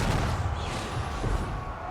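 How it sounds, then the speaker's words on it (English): Cannon fire from a Warhammer 2 multiplayer battle is heard as a dense, continuous barrage, with heavy low booms overlapping over a loud rumbling battlefield backdrop. "A lot of cannons."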